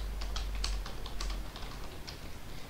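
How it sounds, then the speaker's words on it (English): Rapid keyboard typing, a quick run of light clicking keystrokes that slows and thins out toward the end, fairly close and alone. "since we're typing"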